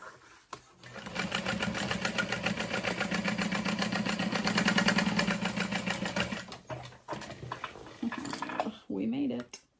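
A sewing machine stitches a bag seam with a 1/2 inch seam allowance, a steady close mechanical whirr lasting about six seconds, then short bursts and handling noises as the stitching stops and starts.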